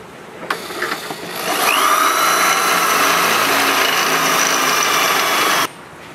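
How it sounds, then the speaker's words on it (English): A power drill with a 3/8 bit starts and grinds steadily through a metal boat trailer fender bracket for several seconds, close and loud, then cuts off abruptly. "drill through the fender bracket into the fender"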